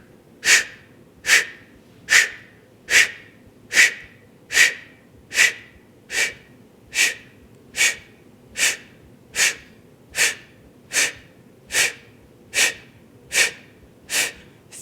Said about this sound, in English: Inhale halfway, exhale, snap your belly.